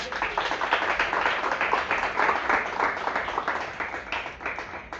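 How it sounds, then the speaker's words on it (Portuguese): A church congregation claps in quick, rhythmic unison, a steady run of sharp hand claps at moderate volume with no one speaking over it. "Aplaudo o Senhor Jesus."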